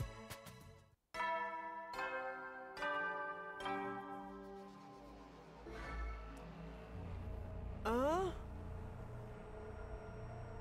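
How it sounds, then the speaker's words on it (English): A bell rings in several ringing strikes that decay into a resonant hum, with a rising electronic chime near the end and low ambient tone underneath. "There's the bell again"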